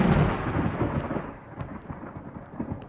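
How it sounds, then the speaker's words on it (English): Thunder rolls through a storm on a stereo high-fidelity demo record, a loud continuous rumble with crackling bursts and rain underneath, and no voices. "thunder, the lightning, the clouds gathering together"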